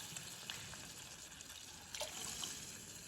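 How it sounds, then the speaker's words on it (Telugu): Water pours and trickles steadily into a cooking pot, a soft continuous splashing with a few brighter drips, fairly close and alone. "1 కప్కి 4 కప్స్ వాటర్ యాడ్ చేస్తున్నాం."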